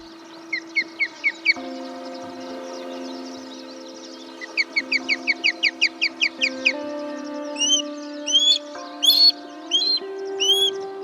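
An osprey calls at its nest on the rocky outcrops of a Corsican peninsula nature reserve, giving bursts of sharp, rising whistled chirps in quick series over a steady, sustained tonal backdrop.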